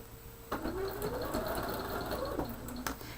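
Sewing machine back-stitching a seam on a fabric cushion for holding clips and pins, a steady close motor whir with a couple of brief stops and restarts, running alone.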